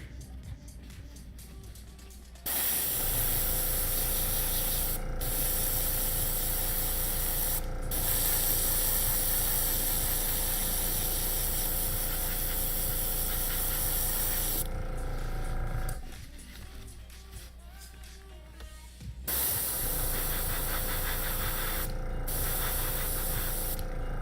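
Aerosol spray paint hisses onto a 3D printed D.Va costume part for another coat, in long steady bursts of several seconds separated by short pauses, close and loud.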